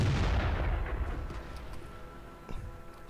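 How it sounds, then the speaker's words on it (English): Centurion 7/1 tank gun firing in World of Tanks: one loud, close boom at the start whose rumble trails away, then a fainter thud about two seconds later. "show the fellas how well the gun fires"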